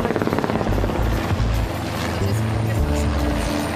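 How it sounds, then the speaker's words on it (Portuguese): Several helicopters passing over Jerusalem, a loud, close rotor thump beating in a rapid steady rhythm with a rumbling engine drone, the pulse shifting in pitch as the aircraft move. "Tem vários helicópteros passando o tempo todo para lá e para cá."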